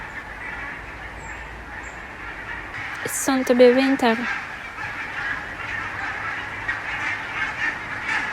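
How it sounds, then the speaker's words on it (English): A short burst of honking calls from geese or ducks rises over quiet outdoor ambience, with a person speaking softly nearby. "There is so many birds. Do you hear them?"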